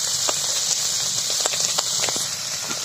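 Goat tripe and potatoes frying in hot oil, a steady close sizzle with scattered crackles and pops throughout.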